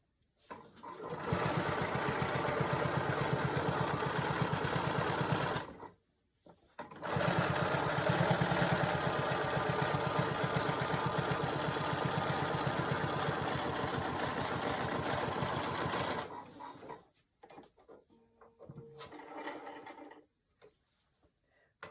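A home sewing machine stitches flannel rag quilt squares together, running in long steady whirring bursts with brief pauses between them, then shorter stop-start runs toward the end.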